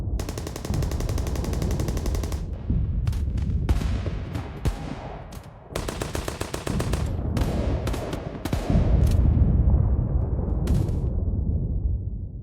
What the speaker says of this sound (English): the two armies erupt into a murderous firefight